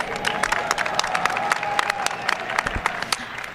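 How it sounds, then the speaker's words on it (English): Audience applause at the Miss Universe 2024 preliminary in Mexico City, a dense, sustained clapping from a large crowd, loud and steady throughout. "how about another round of applause for our esteemed panel of preliminary selection"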